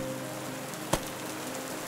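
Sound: heavy rain falling in a forest

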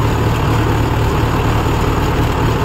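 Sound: Mahindra Yuvo 575 tractor engine running

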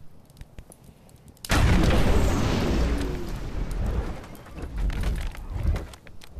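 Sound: huge ground pound impact in video game Blade and Sorcery

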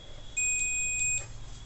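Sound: digital multimeter continuity beep testing compressor winding pins

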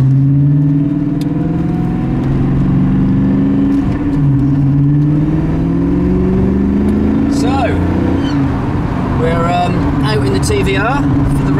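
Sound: sports car engine driving on road

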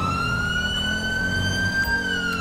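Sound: police truck siren in video game GTA 5

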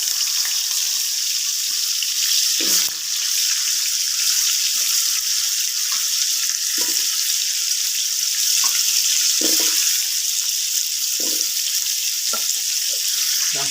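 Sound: potatoes frying in hot oil

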